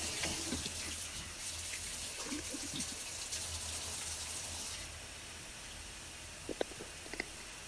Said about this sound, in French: On va rincer ça dans mon évier